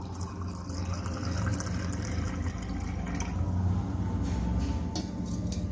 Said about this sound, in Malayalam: ഇനി ഞാൻ പഞ്ചസാരയും നാരങ്ങയോടെ മിക്സ് ചെയ്ത് വെച്ചിരിക്കുന്നത് അതൊഴിക്കുകയാണ്